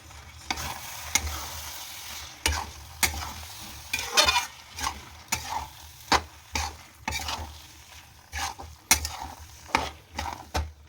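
Sago is stirred and fried with dal and vegetables in a pan. A spoon scrapes and knocks against the pan in a repeated rhythm, close up, over a constant soft sizzle.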